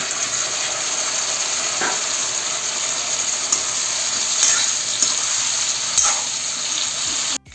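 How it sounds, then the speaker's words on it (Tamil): Fried chicken and capsicum stir-fry in a pan for chilli chicken, a continuous loud hissing sizzle with occasional utensil scrapes and taps, close-up and steady until it cuts off abruptly at the end, no voices. "இப்போ நம்ம வறுத்து வச்சுருக்க இந்த சிக்கனை போட்டுடலாம்"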